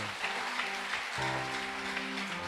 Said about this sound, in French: Acclame fortement le Seigneur.